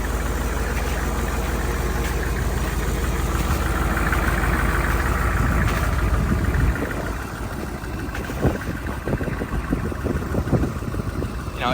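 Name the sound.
truck engine running under load with wheels turning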